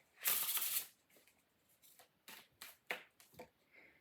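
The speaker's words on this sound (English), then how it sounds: "So let me get you one more shuffle." A quick riffle of tarot cards shuffled close by, then a series of soft taps and slaps as the deck is handled and squared up, with no talking.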